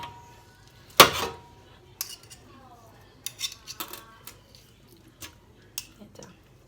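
A knife scrapes and clinks against a plate or board while cutting fat off a Christmas ham, with one sharp knock followed by a scatter of quiet cuts and taps, close and fairly faint.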